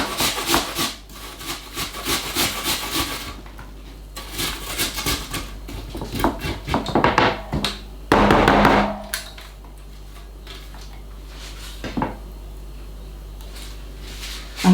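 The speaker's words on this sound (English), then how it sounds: "this half of the apple we are going to grate" Half an apple rubbed against a grater in a kitchen, giving irregular bursts of rasping, scraping strokes close up, with brief pauses and a louder scrape partway through.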